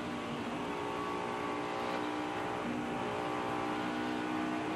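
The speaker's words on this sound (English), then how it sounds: "hear him kind of pedaling that throttle up off the corner, Darrell." A NASCAR Winston Cup stock car engine at Dover Downs International Speedway, throttle pedaled off a corner, giving a dense, loud, continuous roar with slight wavering in pitch and no pauses.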